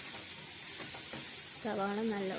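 Steady sizzling of onion, tomato and meat masala with chilli powder frying in a pan with light stirring, close by, followed by a short burst of tonal background sound near the end.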